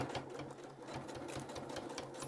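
A domestic sewing machine stitching a fabric face mask with a filter opening runs in a steady, fast, even chatter of needle strokes, close and alone.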